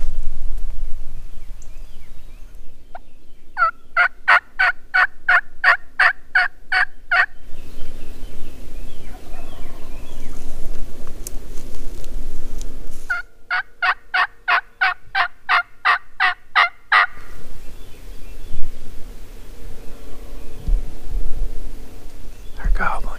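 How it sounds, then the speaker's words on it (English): Wild turkeys gobbling in a field corner, two loud rattling bursts of rapid gobbles separated by quieter gaps, close and clear, with a faint whisper between. "They're gobbling good."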